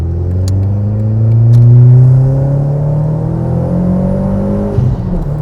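A modified Seat Leon Cupra R 1.8t BAM 225 with oil catch can and N275 and PCV valves deleted accelerates hard, its engine note rising steadily through the revs, loud and close, before a sudden drop as the throttle lifts.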